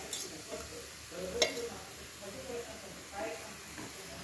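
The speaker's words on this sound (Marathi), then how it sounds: "परोठ्याला असं सगळीकडून तेल लावून घ्यायचं, म्हणजे त्यानं खमंग भाजला जातो परोठा." Aloo paratha frying in oil on a pan, a soft, steady sizzle with faint crackles and a few light scraping touches, quiet under a voice talking throughout.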